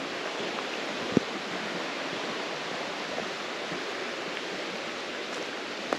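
A river flows steadily beside a concrete path in Huasteca Potosina, a continuous broad rushing wash with no breaks, fairly near and even in level.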